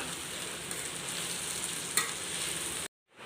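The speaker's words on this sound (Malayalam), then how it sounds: "ഇനി നമുക്കിതിലേക്ക് റൈസ് ചേർത്ത് കൊടുക്കാം ഇതെല്ലാം നല്ലതുപോലെ മിക്സ് ചെയ്യാം" Vegetable fried rice being mixed in a pan as cooked rice is stirred into the vegetables, a steady broadband sizzle with scraping strokes, one sharper clatter partway through, then cutting to near silence at the end.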